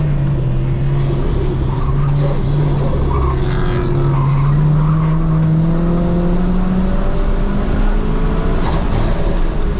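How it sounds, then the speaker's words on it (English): A Toyota GR86 engine with an HKS turbo kit revs and pulls hard, its tone rising and falling with a whistling turbo whine, loud and close throughout. "You gotta love that turbocharging sound."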